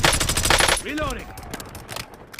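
Gunfire in a multiplayer military shooter video game: a dense burst of rapid automatic fire up close, then a sweeping whoosh and scattered distant shots, with a game announcer's voice over it.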